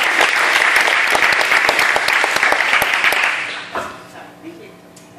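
Loud audience applause at a startup weekend event fades after about three and a half seconds, then a voice begins speaking over scattered trailing claps.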